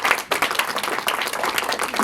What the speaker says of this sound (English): please give a round of applause for Michael Herman